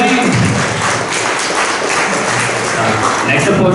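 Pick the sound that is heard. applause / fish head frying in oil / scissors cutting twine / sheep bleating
applause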